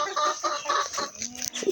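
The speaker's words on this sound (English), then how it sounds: "Look at these hens." Hens on a poultry farm cluck close by, a run of short repeated clucks and murmurs with some higher calls toward the end.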